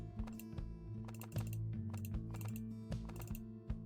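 Computer keyboard keys click in quick irregular bursts of typing, close and clear, with a low steady hum underneath and no talking.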